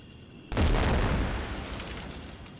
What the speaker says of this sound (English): take out with a sick grenade toss